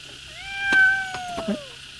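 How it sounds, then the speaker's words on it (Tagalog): A cat gives one drawn-out meow up close, falling off at the end, with a faint second cry after it and no talk. "Ay, istorbo talaga na ita pusa."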